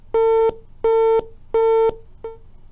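Disconnected phone line tone after a caller hangs up: three long, steady electronic beeps of equal length with short gaps, then a brief fourth beep, loud and clear with no voices.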